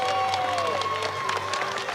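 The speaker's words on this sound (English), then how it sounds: "how about a big round of applause for our dancers?" Outdoor crowd at a St. Patrick's Day parade applauding Irish dancers, with a continuous wash of clapping and some cheering, heard at moderate distance over street noise and a faint tone.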